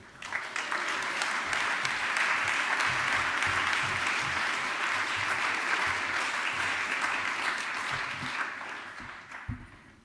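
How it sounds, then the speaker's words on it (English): A keynote audience applauds for about ten seconds, a dense, sustained clapping that swells quickly, holds steady and tapers off at the end. "Let's give her a round of applause."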